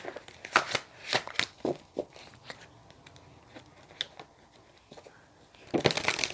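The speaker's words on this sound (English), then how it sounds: "If I can actually get the cards to shuffle." Tarot reading cards being shuffled close by, with a run of quick, crisp riffling bursts, scattered softer flicks and a louder flurry near the end, heard without talk.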